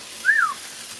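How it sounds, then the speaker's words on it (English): A single short rising-and-falling whistle by a person, fairly close and clear over a quiet background. "I'm whistling now."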